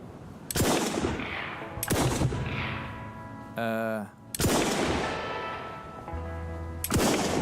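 Video game gunshots ring out as several sharp, loud reports spaced a second or so apart, each with a long echoing tail, and a brief tonal electronic sound in between.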